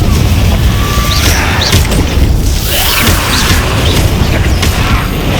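Confringo blasting curse in Hogwarts Legacy, loud booming explosions and crashing impacts layered over dense, continuous game-combat noise with whooshes, heavy and close throughout.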